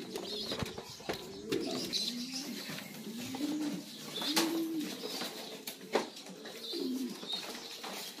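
Young pigeons coo softly in low, rolling calls, several overlapping from nearby, with faint chirps and occasional clicks and rustles around them.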